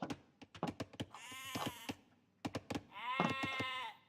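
Sheep bleat in the Age of Empires strategy game, two drawn-out wavering bleats at moderate volume, each preceded by a run of sharp clicks and taps.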